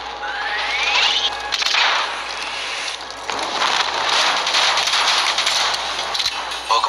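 Minigun fire in the Call of Duty Black Ops 3 video game: dense, continuous bursts of rapid gunfire with whooshing streaks and crackling impacts, loud and sustained throughout.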